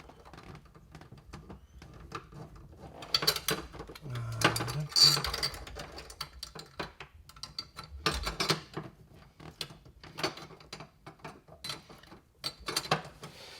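Screws being tightened on a bathtub overflow cover with a rubber flange seal, a run of small irregular clicking and ratcheting taps, quiet and close, with brief pauses between bursts.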